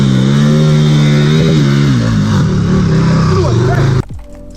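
A KTM 1290 Super Duke built for offroad riding revs hard up close, a loud steady rising engine roar that cuts off abruptly near the end, with someone talking under it.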